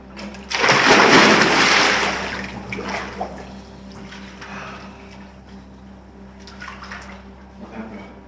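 Swimming in warm water makes a loud burst of splashing early on, then softer sloshing and intermittent splashes fade in and out.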